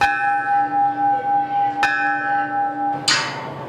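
A large bell rings with a long, pulsing hum that fades slowly, then a second strike lands, followed by a brighter clang near the end.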